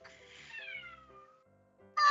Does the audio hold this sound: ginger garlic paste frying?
no